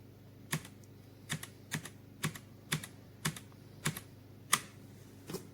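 Keys clack on a Redragon K556 RGB backlit wired mechanical gaming keyboard, about eight crisp, separate strokes at an even, unhurried pace, close and fairly quiet with no voices.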